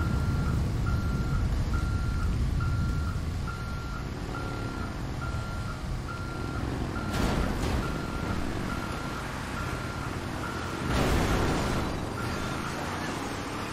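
Steady, evenly spaced reversing beeps from a bus backing up in GTA V, repeating throughout over a low engine rumble, with a couple of short loud crashes later on.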